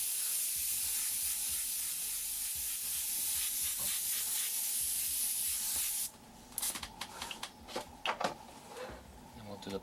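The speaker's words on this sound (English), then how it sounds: "Nice wide spray just like this." An airbrush lays down a nice wide spray of black paint, a loud continuous airy hiss for about six seconds that then cuts off, followed by scattered clicks and handling noises.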